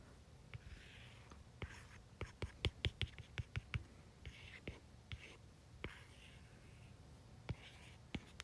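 Marker or chalk drawing a slender rod on a board makes sharp tapping and scratching strokes in irregular bursts, close and fairly clear, mixed with soft whispered-sounding breath or murmuring.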